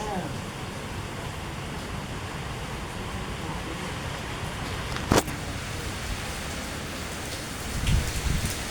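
Heavy rain pours steadily and hisses evenly, with a sharp crack or bang near the middle and a brief low thump toward the end, and no voices in between.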